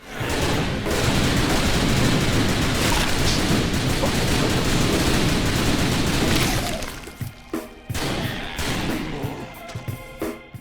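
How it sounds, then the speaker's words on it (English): Rapid-fire gunshots from typing in the zombie game The Typing of the Dead Overkill come as a dense, loud barrage with shattering and booming hits, then thin into separate bursts and pauses toward the end. "each character typed equates to an ear-crushing shot from a gun"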